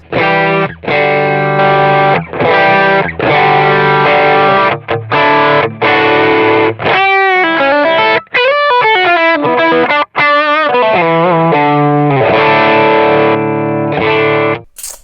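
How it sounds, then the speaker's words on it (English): Overdriven electric guitar playing chords and a melodic run through a Klon-style boost on a Line 6 HX Stomp, loud and bright with a boosted, crunchy tone and short pauses between phrases. "the final boost is kind of a Klon style circuit that's in the Stomp"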